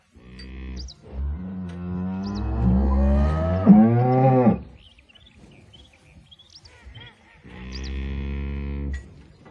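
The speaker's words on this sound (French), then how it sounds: "Allez les vaches là." Cartoon cows in a children's animated farm scene moo as they are herded out of the barn: several long, loud, drawn-out moos with short pauses between them.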